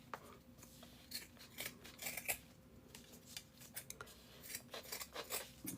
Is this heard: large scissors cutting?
yes